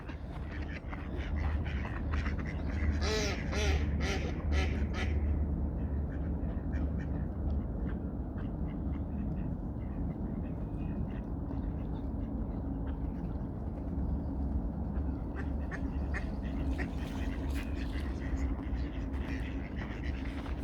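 Ducks quack in short bursts on an icy shoreline walk in Traneberg, Stockholm, moderately near, over a low background rumble of footsteps and outdoor ambience.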